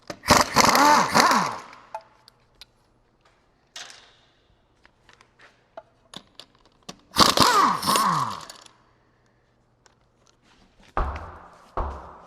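Spline tuner wheel nuts coming off a Jeep Gladiator's aftermarket wheel: two loud bursts from a power impact tool with whirring, separated by sparse small clicks and clanks, then a couple of metallic thuds at the end.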